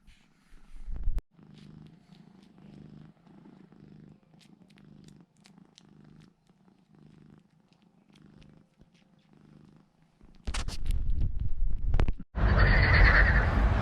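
Dottie, a mother cat with three tabby kittens, purrs softly in a low rhythmic rumble close by. Louder bursts of handling noise follow near the end.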